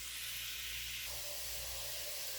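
Ground meat browns in a pan for lasagna, giving off a steady, even sizzling hiss with no talking over it.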